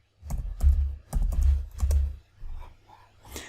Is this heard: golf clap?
no